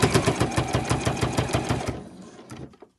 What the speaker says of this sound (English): And I'm just sewing right on the edge there.